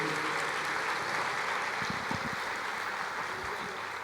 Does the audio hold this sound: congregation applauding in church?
yes